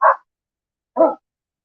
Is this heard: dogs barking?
yes